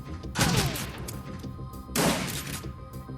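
Frag grenade explosions in the Shadowrun Dragonfall video game come as two loud, crashing bursts about a second and a half apart, each with a booming, debris-filled tail.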